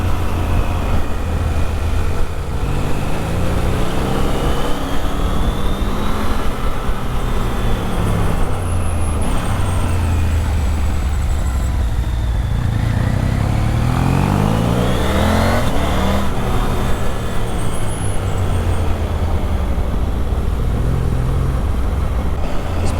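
A Triumph Tiger 900 Rally Pro adventure motorcycle runs along twisty back roads, its engine droning loudly and continuously with rising and falling revs as it accelerates and shifts, wind noise throughout and no talk.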